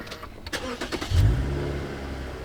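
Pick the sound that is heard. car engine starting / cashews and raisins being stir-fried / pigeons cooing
car engine starting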